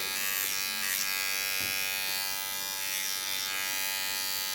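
Electric hair clippers buzz continuously and steadily at close range while cutting a fade, a bright, dense motor whine with no pauses.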